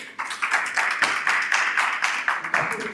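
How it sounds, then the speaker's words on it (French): An audience applauds a guest on a French dating show, a steady wash of clapping with sharper individual claps standing out, moderately loud and close, running the full few seconds. "Vous pouvez l'applaudir, s'il vous plaît."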